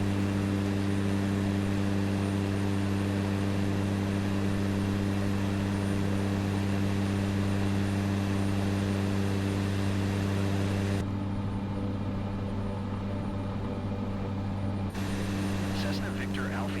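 Cessna Grand Caravan turboprop engine in Microsoft Flight Simulator, a steady droning hum with strong low tonal bands running throughout, unbroken and close, with a faint cockpit radio voice briefly layered over it.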